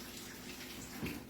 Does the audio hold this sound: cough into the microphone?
no